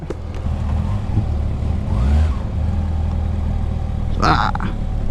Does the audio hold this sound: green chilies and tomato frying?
no